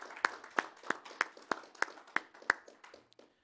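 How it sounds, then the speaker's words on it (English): At a press conference for the Africa Investment Forum 2018, a few audience members give slow, evenly spaced claps, about eight sharp close hits that fade out at the end. "could we just give our wonderful colleagues a warm round of applause for the wonderful work that you've done?"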